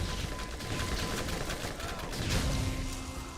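Rapid SMG fire crackles in the video game Borderlands as a continuous, fairly quiet burst of shots over a mechanical rattle.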